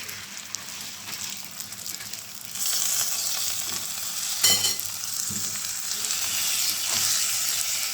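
Soaked, washed rice is stirred into toasted vermicelli in a hot pot, bringing a loud, close sizzle and crackle of frying that swells as the grains go in, with brief stirring scrapes and no talk.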